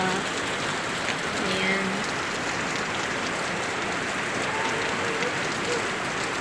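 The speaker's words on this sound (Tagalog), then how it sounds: "Lakas ng hangin at saka ulan, sobra." Heavy rain and wind from Typhoon Uwan pour down in a steady, dense hiss of drops on surfaces, continuous and fairly soft, with a brief spoken word near the start.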